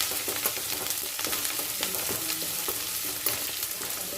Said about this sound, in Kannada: ಶುಂಠಿ ಹಸಿಮೆಣಸು ಇವಾಗ ಸ್ವಲ್ಪ ಬ್ರೌನ್ ಆಗುವಂಥ ಸ್ವಲ್ಪ ಫ್ರೈ ಮಾಡೋಣ